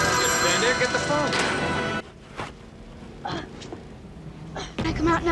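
A telephone rings in a 1985 movie, a bright electronic trill heard in short bursts, mixed with film dialogue and background noise, with people talking over it.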